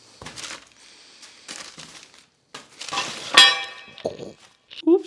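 Parcel of moped parts for a Mofacup Maxi build being unpacked: bursts of crinkling packaging and rustling, a sharp metallic clang of parts knocking together, then short clinks, close and moderately loud.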